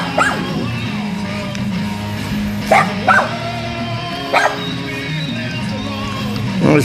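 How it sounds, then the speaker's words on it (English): Several dogs bark in short, loud bursts spread across a backyard scene, mixed with yips and whimpers over a low background hum. "here comes the other dogs"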